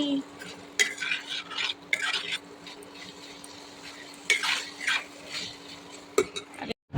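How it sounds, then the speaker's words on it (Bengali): Spice masala for chicken curry being stirred and sautéed in a pan, with soft frying and scraping strokes in irregular bursts, a few sharp utensil clinks against the metal, and a steady low hum underneath. "এই দেখো মশলা কষাচ্ছি"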